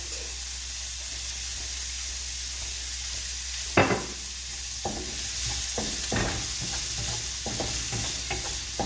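Garlic sizzles in a little oil in a pan while being stirred for beef mechado, a steady frying hiss broken by several sharp scraping stir strokes, close and moderately loud, with no talking.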